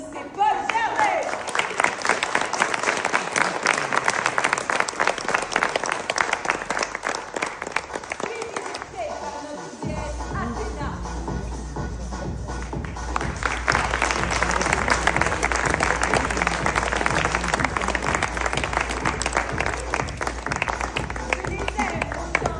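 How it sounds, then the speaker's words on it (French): A Halloween show crowd at the Hotel Pams in Perpignan bursts into sustained, dense applause that dips briefly midway before swelling again, with a voice speaking over the clapping. "Applaudissez Paul Gervais!"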